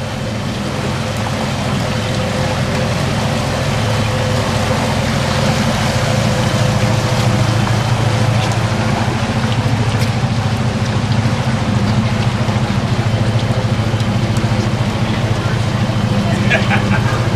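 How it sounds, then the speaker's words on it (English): Heavy rain pours steadily onto Shasta Lake beneath a bridge, a dense continuous hiss with a low rumble underneath, close and loud for the whole stretch with no break. "It's like Forrest Gump rain, man, but we're still hopeful that we're going to wakeboard."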